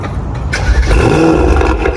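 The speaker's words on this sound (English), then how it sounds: "This car is powered by a 4-liter bi-turbo V8 pushing 630 horsepower and 900 Nm of" A Mercedes-AMG GT 63 S 4 Door Coupe Edition 1 with a 4-liter bi-turbo V8 fires up loud and close, a deep engine rumble that swells into a rev.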